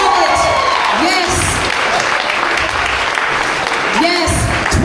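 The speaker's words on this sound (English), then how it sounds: "Give her a round of applause." An audience at a live teen clinic program claps steadily for a participant, loud and sustained throughout, with a voice speaking over the applause.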